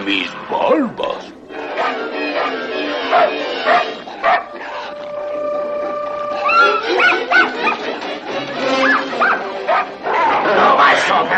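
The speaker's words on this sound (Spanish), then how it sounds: "¡Malditos perros!" Cartoon dogs bark and yip excitedly throughout a chaotic animated fight scene, with shouting voices over the barks.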